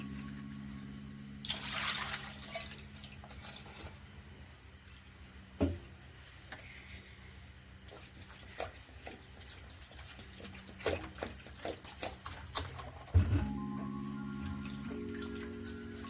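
Dried fish being rinsed in water, with soft intermittent splashes and trickling under a steady high insect chirp, quiet and close, with no talking.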